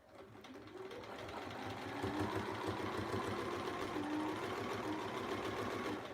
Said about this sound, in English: This top stitching is going through a lot of fabric with some of this quilting, or these blocks that we made.